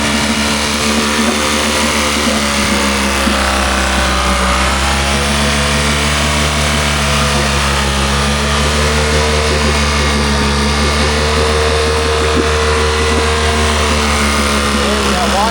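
A farm engine runs with its propeller set in neutral and not spinning, a loud steady mid-pitched drone with slight revving swells that holds throughout.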